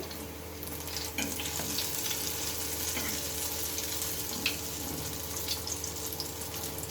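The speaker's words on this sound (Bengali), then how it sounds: "এক একটা ভাজা হয়ে যাচ্ছে" Battered bitter gourd fritters fry in hot oil with a steady, dense sizzle and scattered soft crackles throughout, with no voices.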